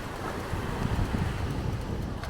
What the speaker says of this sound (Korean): 비바람이 불어서 그런지 파도가 세다.